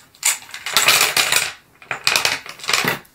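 Hard domino tiles poured out of their box, clattering in two loud bursts of dense clicking and rattling close by, no talk.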